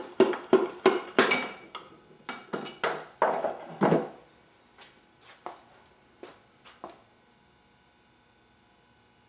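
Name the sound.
wooden hammer handle pushing connecting rod and piston out of engine block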